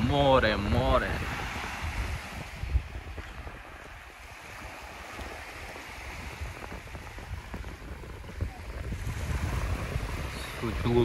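Sea waves and wind at a seashore, a steady broadband wash of surf with wind buffeting the microphone, rising louder at the start and end, while voices talk over it near the beginning.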